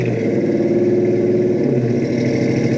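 A 1966 Ford Mustang Fastback with a 302 V8 and a T5 five-speed settles down from high idle, giving a loud, steady, close-up engine rumble with a slight easing in pitch.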